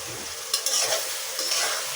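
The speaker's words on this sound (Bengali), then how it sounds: "একটু ভেজে নিব কিছু সময়।" Chopped eggs frying in a pan for a jackfruit-seed egg dish, a steady bright sizzle with a few stirring scrapes and clatters, close and alone.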